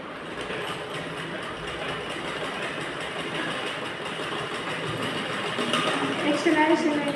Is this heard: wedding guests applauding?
no